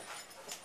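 Dogs whimper and pant close by during an outdoor interview in Gig Harbor, Washington, a brief burst of soft, breathy whining with no talk over it.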